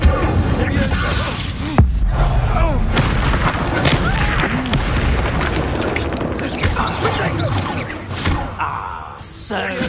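An Incendio fire spell cast in Hogwarts Legacy bursts out in booming, crackling blasts over dense, continuous game sound that fades slightly at the end.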